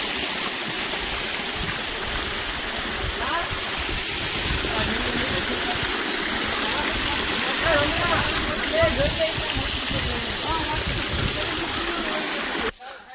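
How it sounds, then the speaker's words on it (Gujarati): A mountain stream flows along the stepped trail up Girnar hill, a steady rushing wash of water heard throughout, with voices and movement mixed in near the end. "તો કંઈક આવી રીતના પાણી જાય છે ગિરનારની અંદર."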